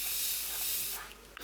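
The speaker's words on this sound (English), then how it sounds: "This is a baking spray. I'm going to spray that." A single close, sustained hiss of a makeup baking spray lasting about a second, ending abruptly.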